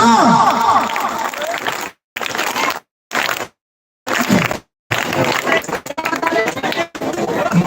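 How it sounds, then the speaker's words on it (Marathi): Audience clapping in bursts at a school annual gathering, loud applause broken by several short silent gaps, with voices mixed in. "वर हात करून सगळ्यांनी क्लॅप"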